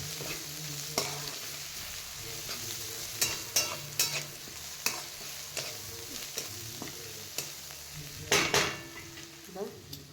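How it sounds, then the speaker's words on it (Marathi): Onion, green chilli and turmeric sautéing in a pan for egg bhurji, a soft steady sizzle with repeated spatula scrapes and clinks against the metal pan, close and quiet. "थोडंसं हळद टाकली ती पण परतून घ्यायची आपल्याला हळद"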